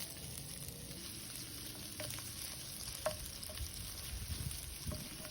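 Ginger sizzling in hot sesame oil for beetroot pickle, a steady close frying hiss broken by a few soft stirring clinks and scrapes, with no voices.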